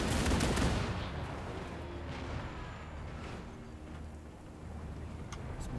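Soldiers fire guns in Total War: Warhammer 2 with the Kislev Reborn mod, a dense crackling volley that bursts loudly at the start and then rolls on as a continuous rumbling battle din.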